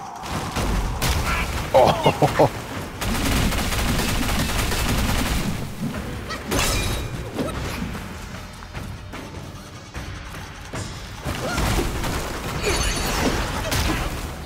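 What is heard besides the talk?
enemy shooting at player in Black Myth Wukong video game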